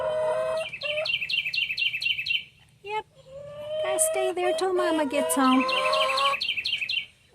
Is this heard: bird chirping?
yes